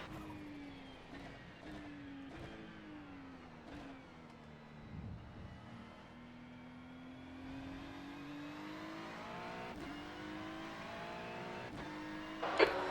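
Racing car in a video game, the engine note rising and falling through gear shifts and revs, steady and close, with a sharp louder burst near the end.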